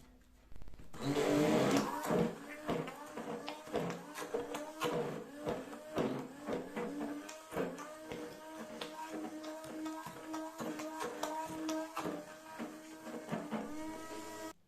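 A food processor churning frozen black mulberry ice cream, its motor whirring in rapid, uneven pulses as the stiff mixture thumps and catches against the blade, close and steady throughout.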